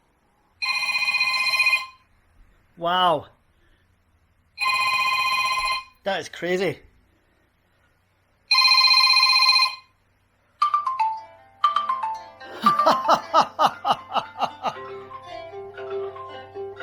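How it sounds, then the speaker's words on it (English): A phone ringtone plays over Bluetooth through a HyVibe guitar, sounding from its body in loud repeated bursts with gaps, then a rapid chiming melodic run. A voice briefly reacts in between. "ringtone from your phone and make sure it sounds okay"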